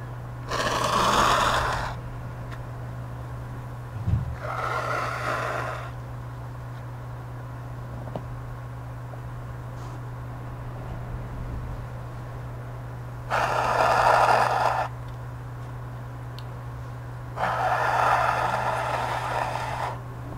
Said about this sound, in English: I'm gonna blow my nose really quick.